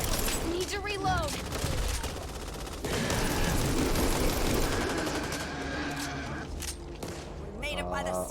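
Gunfire in the zombie shooter game Back 4 Blood, dense and continuous throughout with heavy bursts layered over one another, loud and close, with people talking over it.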